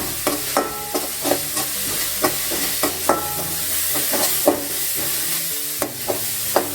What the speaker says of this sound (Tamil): இந்த வெங்காயம் வதங்கிறதுக்கு கொஞ்சம் போல் சால்ட்டு. சீக்கிரம் வதங்கும்.